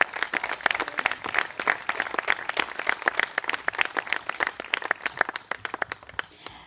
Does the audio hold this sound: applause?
yes